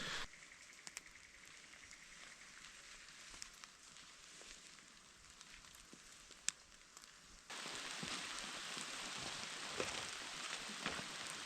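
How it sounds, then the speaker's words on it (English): Light rain patters steadily on a wild campsite on a cliff, a soft continuous hiss with scattered drops that grows noticeably denser and louder partway through. "right on cue as we wake up, here comes a bit of rain"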